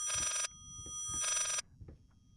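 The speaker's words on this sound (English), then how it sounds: "Phone? Telephone with a broken bell?" Bright electric telephone bell with a broken, rattling ring in the horror game Layers of Fear, two loud bursts separated by a pause, alone in a quiet room.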